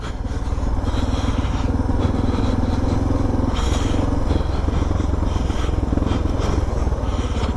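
Suzuki DRZ400 and DR650 dirt bikes ride a trail at Neerim East's Tolleys Track, a steady, close engine drone running throughout with a constant rumbling pulse and occasional scraping clatter, no voices.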